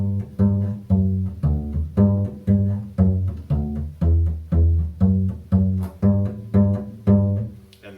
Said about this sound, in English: if you pluck that same song on the morning dance on the bass, it sounds like this.